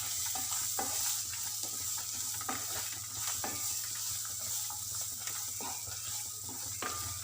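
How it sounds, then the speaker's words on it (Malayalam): Dragon chicken sizzling and frying in a pan while being stirred, a steady hiss under repeated scraping strokes of a spoon against the pan, with a low hum running beneath and no talk. "ഇനി നമ്മൾ വീണ്ടും ഇത് നന്നായിട്ടൊന്ന് മിക്സ് ചെയ്ത് കൊടുക്കുക"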